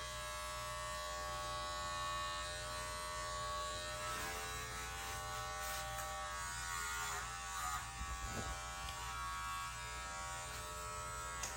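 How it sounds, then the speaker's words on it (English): A steady electric hair clipper buzzes continuously during a do-it-yourself women's haircut at home, droning close and fairly loud throughout with slight changes in tone as it trims hair. "Now I'm using just the clipper."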